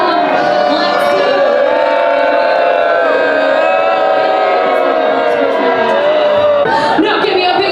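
A large, rowdy audience at a lumberjack show on an Alaskan cruise stop cheers, whoops and shouts loudly without pause, forming a dense, continuous wall of voices.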